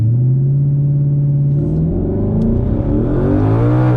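Twin-turbo car launching hard from a dig on wastegate pressure, a loud close engine roar rising steadily in pitch as it accelerates, continuous and alone.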